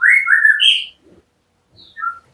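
An oriental magpie-robin sings clear, whistled phrases, a bright run of notes, a short pause, then a couple more sweet whistles nearby.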